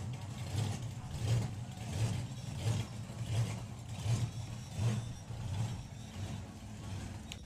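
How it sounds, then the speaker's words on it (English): A loud supercharged Jaguar drag car engine revs in steady rhythmic pulses, a deep throbbing idle surging again and again without pause. "Even when Joel Kerr had his car broken, he arrived with his Jaguar, his supercharged Jaguar."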